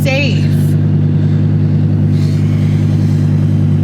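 A Dodge Viper engine runs loud and close in a steady low idle drone, with a brief voice near the start.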